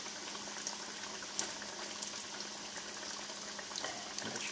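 Crappie fillets frying in a pan of Crisco shortening, a soft, even bubbling sizzle with faint crackles, steady and fairly quiet throughout with no voices.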